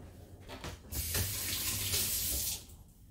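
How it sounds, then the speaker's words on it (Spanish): Running tap water pours into a sink as hands are washed, a loud steady hiss starting abruptly and cutting off about two seconds later, with no talking. "Voy a lavarme las manos."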